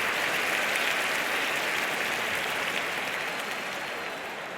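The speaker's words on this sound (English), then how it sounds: "The crowd go wild and they respond." Steady, dense applause from a stadium crowd in a London 2012 video game, filling the whole stretch at an even level before easing slightly at the end.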